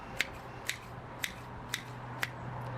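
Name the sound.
garden shears chopping seaweed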